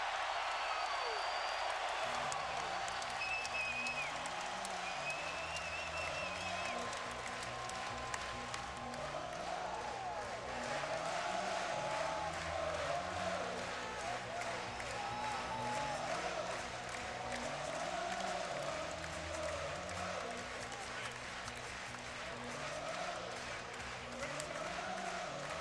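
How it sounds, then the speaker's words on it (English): Roaring arena crowd at a Kansas at Iowa State college basketball game, a sustained loud wash of cheering with music playing underneath and a commentator's voice over it. "Listen to the crowd now."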